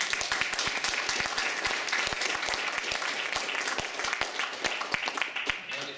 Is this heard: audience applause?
yes